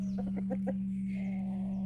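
A breeding rooster in a large backyard gives a quick run of about five short, close clucks, then a softer drawn-out call, all over a steady low electrical hum.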